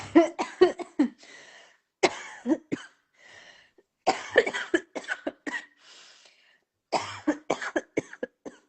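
Bursts of harsh coughing come in quick clusters, separated by short pauses, loud and close with nothing else around them.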